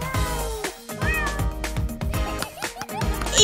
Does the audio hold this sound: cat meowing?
yes